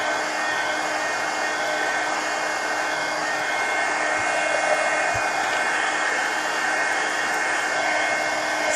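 A hair dryer runs steadily and loud, drying a wet wash of paint on a mixed media colouring book page, with a constant whirring drone and no breaks.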